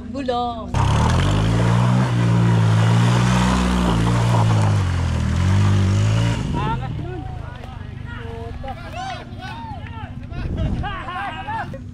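Yamaha PG-1 motorcycle doing a tire burnout, a loud, steady engine roar with a harsh high hiss of spinning rubber for about six seconds, then cutting off abruptly into quieter background with faint voices.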